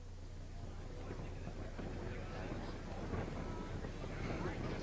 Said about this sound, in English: The wind is gusting today.